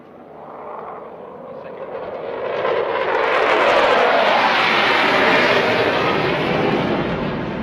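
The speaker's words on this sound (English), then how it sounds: "as the third fighter jet races towards the venue, its thunderous approach echoes unwavering resolve" A Pakistan Air Force fighter jet passes over a 14 August ceremony, its roar swelling from a distant rumble into a loud, sustained thunder before easing slightly.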